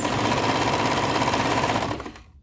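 A sewing machine stitches fabric for a romper in a rapid, steady mechanical whir heard close and alone, winding down at the end.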